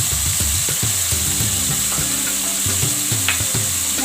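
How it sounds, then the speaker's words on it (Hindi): Tomatoes frying with turmeric and red chili powder in a hot pan give a loud, steady sizzle, with repeated spoon-stirring scrapes and clatters throughout and no talking. "अब हम इसमें जो है वो ये टमाटर शामिल कर देंगे, तो फ्राई करेंगे।"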